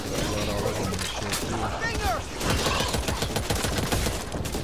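Rapid gunfire in the video game Back 4 Blood, a dense stream of automatic shots and impacts that runs continuously and loudly, with players talking over it.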